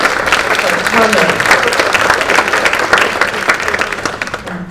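An audience at a library lecture on diversity claps loudly and continuously, with distinct individual claps within the crowd and a few voices faintly under it before it thins out at the end.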